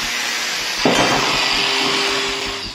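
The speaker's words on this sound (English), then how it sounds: "I'm going to cut up a whole bunch of threaded rod, 12mm" Harsh, steady high-pitched grinding as a power cutter bites into 12mm threaded steel rod, loud and close, continuing for a few seconds after a sudden start.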